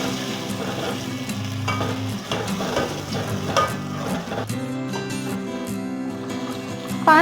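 Ground spice paste fries in about a cup of hot oil in a pot for black chickpea curry, a steady sizzle broken by scraping spoon stirs and light metallic clinks.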